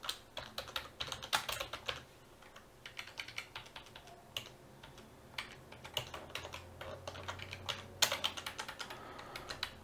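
Code being typed on a computer keyboard while programming an Arduino, with close, crisp key clicks in irregular bursts and short pauses, some keystrokes landing harder than others, and no voice over it.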